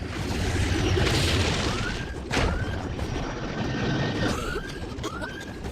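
In an animated series, an aircraft engine is hit and the craft goes down. A dense, continuous roar of engine and wind noise fills the clip, with a sharp crack partway through and descending whines.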